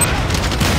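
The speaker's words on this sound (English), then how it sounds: "The cluster shot acts like a shotgun of sorts, firing small rockets or bombs." The cluster shot weapon in the Time Crisis arcade shooter launches small rockets in a short, loud, booming burst of overlapping blasts with a rumbling low end.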